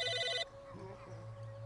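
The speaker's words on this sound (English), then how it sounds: "Wait, there's a phone ringing." An electronic telephone ring from the video game Psychonauts sounds briefly and cuts off, leaving a quiet game hum with faint tonal sounds and a soft hint of voice.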